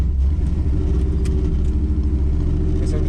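Chevy C10 small block V8 with a lopey cam idling after a cold start, a loud, steady low rumble that runs throughout with an uneven, loping pulse and no talking.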